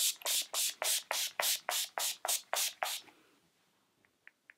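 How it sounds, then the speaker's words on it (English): A rapid series of about eleven short, hissing bursts of Urban Decay All Nighter Setting Spray in an even rhythm, close by, followed by quiet with a few faint clicks. "So just close your eyes and spray."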